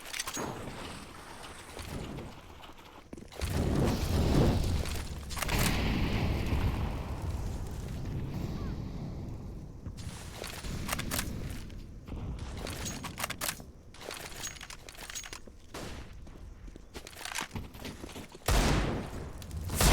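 Pistols, including a Desert Eagle, fire during a competitive shooter video game match. Rapid bursts of gunshots and heavy impacts come in dense, uneven clusters, loud and close, with brief quieter gaps between volleys.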